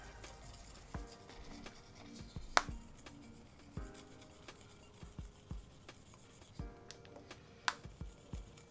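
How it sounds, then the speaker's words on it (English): An unboxing knife scrapes and taps across a screen protector on a Pixel 10 Pro XL, making faint, close, irregular scratching strokes and small clicks, with a couple of sharper ticks. "So let's scratch test it. I've got my trusty little unboxing knife here."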